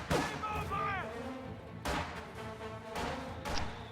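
Mortar and artillery fire in a real-time strategy battle game, with several booming impacts spaced a second or so apart, mixed with game effects and a commentator talking over them.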